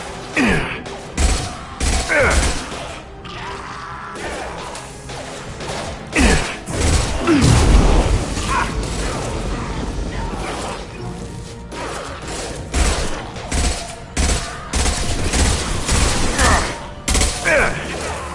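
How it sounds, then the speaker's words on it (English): Repeated bursts of impact-shot gunfire and crashes from combat in the Mass Effect 2 Legendary Edition on PS5, loud and close, with a heavy blast near the middle and talk mixed in between volleys. "Firing an impact shot!"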